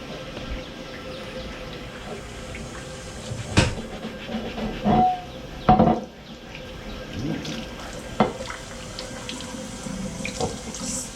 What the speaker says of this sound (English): So cold water, and go ahead and scrub until all the rust is off of the surface.